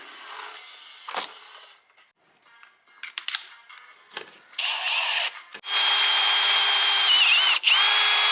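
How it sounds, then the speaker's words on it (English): Power drill boring out bolts while lowering a 1998–2004 C5 Corvette, with short bursts of high whine early on, then a loud steady drilling run near the end broken by a brief pause, with no talk. "So I'm gonna have to drill these out a little bit more to make them work."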